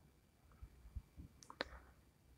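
A Mac computer mouse gives a few faint, sparse clicks against quiet room tone.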